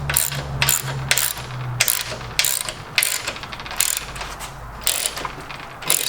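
Ratchet wrench tightening a bolt in a workshop, producing repeated bursts of fast metallic clicking from close by, in uneven strokes with short pauses between them and no talking.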